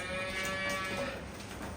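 A Jersey calf on a farm moos once, a clear sustained bellow lasting about a second, fairly close and loud against a quiet background, with no voices.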